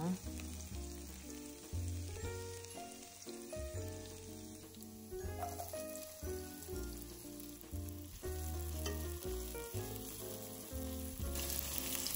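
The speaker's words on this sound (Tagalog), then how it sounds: "Tapos igisa lang natin yung bawang at saka sibuyas, ano?" Garlic and onion sauté in oil in a pan for chicken lomi, with a steady sizzle and crackle running under prominent background music.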